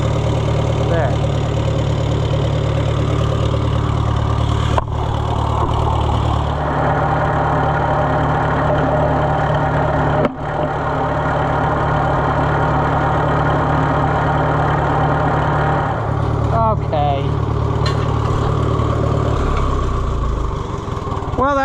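A steady, loud mid-pitched old tractor engine chugs at idle for the whole stretch, with a couple of sharp knocks and a brief change in tone near the end.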